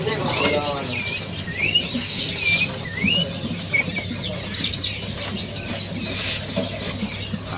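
Small caged birds chirp and whistle at a bird-market stall in Pramuka, with repeated rising tweets over a busy background hum and faint voices nearby.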